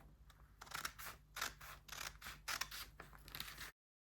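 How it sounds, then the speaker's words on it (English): Scissors snip through fabric along a pattern line for a Queen Anne neckline, a run of close, crisp cuts, each a short slicing burst with brief gaps between, heard alone over a low steady hum. "I'm going to start cutting from here. You can see it is very easy to cut"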